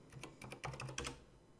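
Short bursts of close keystrokes on a computer keyboard, about a dozen quick clicks in uneven clusters with a brief pause between groups.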